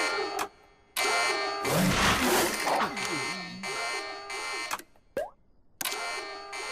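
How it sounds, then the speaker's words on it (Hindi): Cartoon alarm set off by a pressed button, a loud harsh buzzing ring that starts and stops in bursts with a noisy clatter in the middle. "मैं ये बटन दबाता हूँ तो अचानक से अलार्म क्यों बज रहा है?"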